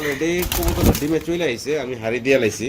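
Modena white bar pigeons coo close by in a steady series of soft, throaty, rolling calls that rise and fall, with voices talking over them.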